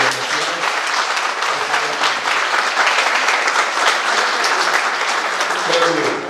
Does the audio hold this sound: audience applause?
yes